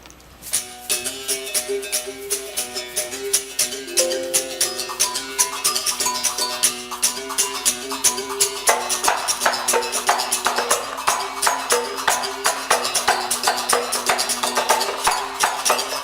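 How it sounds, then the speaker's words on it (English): A percussion ensemble plays a Brazilian baião rhythm from northern Brazil, live on a stage. Quick, steady drum hits and bright rattling strokes run without a break. A low tonal hum sits underneath, and the playing grows louder and denser partway through. "this rhythm actually is called baião from the northern part of Brazil in Salvador"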